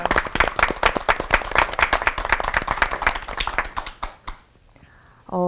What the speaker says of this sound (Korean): 오늘 정말 귀한 말씀 들려주신 세 분 목사님 박수로 보내드릴까요?